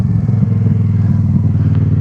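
A rebuilt motorcycle revving in second gear as the clutch is let up for a wheelie, a loud, steady low engine drone close by with a throbbing pulse and no talk.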